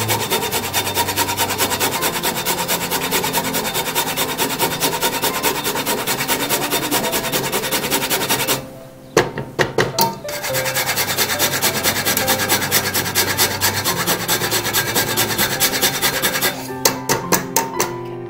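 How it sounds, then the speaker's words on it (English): Fresh nutmeg grated by hand for mincemeat jam, a close, loud rasping scrape repeating in a fast steady rhythm, pausing briefly midway with a few small knocks before resuming. "I've got fresh nutmeg. I'm just gonna grate right in."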